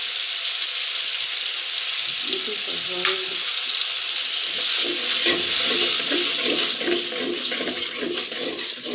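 Rice bubbling and boiling in a pot on the stove, a steady hissing, simmering wash with soft watery bursts and faint clinks, close and fairly loud throughout, no talking.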